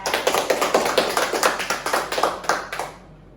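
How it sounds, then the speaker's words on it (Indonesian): An audience claps in steady applause for a guest who has just shared her story, many hands close together, fading out near the end with no talk. "kita beri tepuk tangan dulu buat Kakak Marsha ya"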